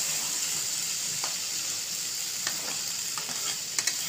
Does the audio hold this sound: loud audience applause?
no